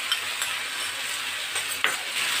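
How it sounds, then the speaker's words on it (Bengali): Onions and ginger-garlic paste fry quietly in a pan, a soft steady sizzle with a few scraping stirs of a spoon and one brief sharper clink, faint and close, no voices. "এবারে সবগুলো নিয়ে আমি একটু কষিয়ে নেব।"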